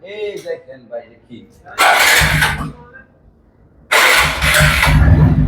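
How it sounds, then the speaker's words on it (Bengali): A motorbike engine cranks and catches twice, each start bursting into a loud, close, rough running roar that holds steady, with someone talking briefly before the first start. "ইঞ্জিনের সাউন্ডটা একদম ফ্রেশ"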